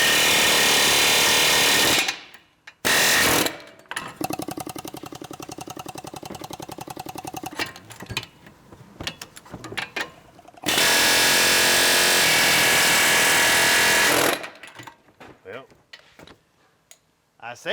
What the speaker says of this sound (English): I just use a air hammer because it's just easier.